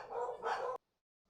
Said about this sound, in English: The dog's going off right now.